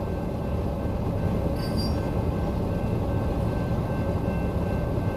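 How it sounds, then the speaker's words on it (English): A steady low rumble of a freight train rolling past nearby, with a brief metallic squeal partway through and no talking. "We're stuck behind a train."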